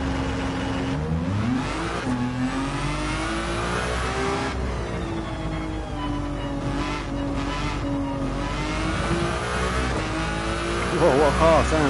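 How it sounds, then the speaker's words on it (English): A race car in Gran Turismo 7 revs hard and runs through quick short-geared upshifts, a loud continuous engine whine rising and falling, with someone talking over it. "Whoa, what a car, sounds nice."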